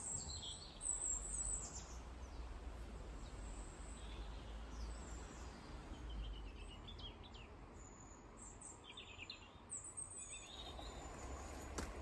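Birds sing faintly in an autumn cottage garden, scattered high chirps and short song phrases drifting over a steady low outdoor hum, fairly distant.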